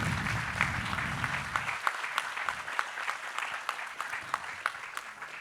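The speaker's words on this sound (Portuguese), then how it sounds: "Palmas para Ailton Krenak," A festival auditorium audience applauds Ailton Krenak, with a mix of dense clapping and distinct individual claps. A low rumble at the start gives way to clearer, moderately distant applause.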